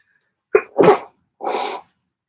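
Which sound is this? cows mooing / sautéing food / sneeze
sneeze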